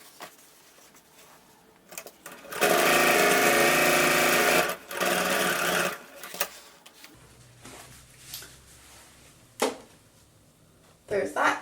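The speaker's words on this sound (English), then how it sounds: "Now we're going to sew another row of stitches parallel to that one, 1/2 inch from the edge" A sewing machine stitches a row of gathering stitches on a cardigan sleeve, running loud and steady for about two bursts of a few seconds each, with a voice talking before and after.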